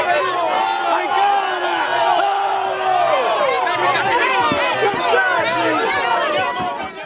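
A protesting crowd heckles a university rector as he steps out of his car, a dense, continuous din of shouting voices and chatter close by, with raised cries rising and falling throughout.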